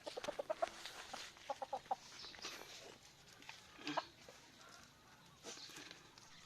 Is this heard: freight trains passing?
no